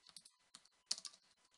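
Quiet, close keystrokes on a computer keyboard while typing a move into a rock-paper-scissors game against the computer, a short irregular burst of light clicks and taps.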